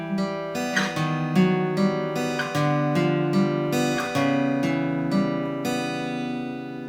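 A guitar riff played slowly and deliberately, picked notes ringing over each other in a steady pattern, clean and close with no voices.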